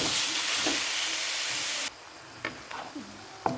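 Meat sizzles as it is stir-fried in a pan, a loud steady hiss that cuts off abruptly partway through and leaves quieter scraping clicks from stirring.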